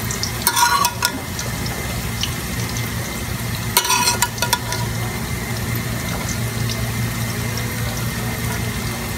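Pakoras frying in oil in a home kitchen make a steady, close sizzle, broken by two short clattering bursts from utensils.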